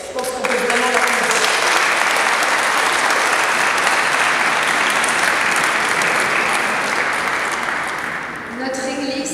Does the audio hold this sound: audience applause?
yes